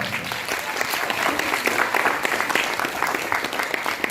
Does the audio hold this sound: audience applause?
yes